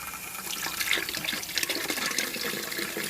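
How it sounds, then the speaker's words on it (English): Water gushes from a newly fitted outside tap in a steady, close splashing stream with slight uneven surges. "Put the tap on."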